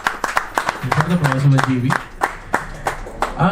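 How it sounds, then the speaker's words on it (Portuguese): An audience at a carnival press event gives scattered applause, a handful of sharp distinct claps with a voice talking briefly in the middle. "um forte aplauso"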